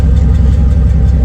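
LT1 V8 swapped into a Mazda B4000 pickup idling with the muffler fitted, a steady low rumble with faint irregular popping pulses, close and alone.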